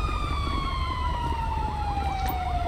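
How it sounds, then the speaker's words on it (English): A steady electronic police siren from the video game GTA V wails continuously, its tone gliding slowly downward over a low engine rumble, with no talking. "I love how my siren's just going on."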